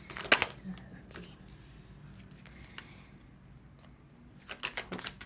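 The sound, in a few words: tarot cards being shuffled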